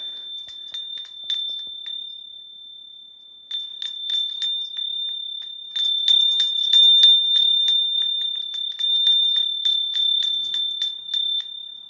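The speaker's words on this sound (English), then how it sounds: "This is a special little bell that I got." Small handmade bell from Arcosanti, a desert community, rung repeatedly with a clear sustained high ring and quick jingling strikes, near and fairly loud, with no talking.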